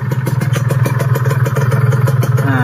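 A Kawasaki RR150 two-stroke motorcycle engine idles close by after a crankshaft replacement, with a steady, rapid, even putter and a slight rise in revs toward the end.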